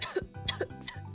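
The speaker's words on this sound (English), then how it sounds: "I keep coughing because I'm getting sick" A few short, sharp coughs from someone getting sick, in quick succession, close and fairly loud, with no talking.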